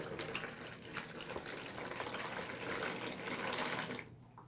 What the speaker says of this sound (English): Use lukewarm water and fill the tub up halfway.